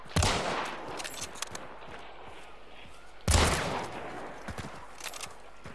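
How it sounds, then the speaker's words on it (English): Gunfire in the video game Hunt: Showdown: two loud shots about three seconds apart, each with a sharp crack and a long rumbling tail over a quiet game backdrop. "Someone shot at me."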